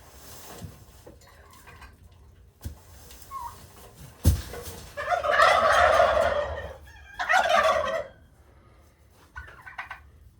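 A homestead turkey lets out loud, rattling gobbles in two close bursts, with a fainter third one afterward, between scattered thumps and handling noise nearby.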